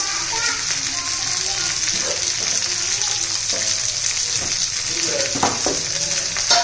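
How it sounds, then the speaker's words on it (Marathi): A pan of okra and potato bhaji sizzles loudly as it is stir-fried in oil, with a spatula scraping and clinking through the steady frying hiss. "आता जरा 2-3 मिनिट आपण चांगले पीस परतून घेऊया"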